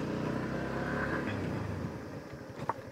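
A 2025 Yamaha MT-15 motorcycle ridden along a road, its engine giving a steady close drone that eases slightly toward the end, with a faint sharp click near the finish.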